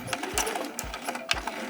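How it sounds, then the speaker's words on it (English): A sewing machine stitching a seam on a fabric shoe bag, a loud close whirring with rhythmic mechanical thumps about every half second, with no talking. "I'm definitely going to do a back stitch at the beginning and the end of each line of stitches."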